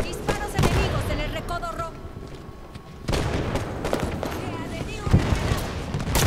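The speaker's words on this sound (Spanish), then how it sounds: "Disparos enemigos en el recodo rojo." Bursts of rapid gunfire and booming shots crackle in a Halo 5 firefight, dropping briefly before erupting again, with voices talking over the action.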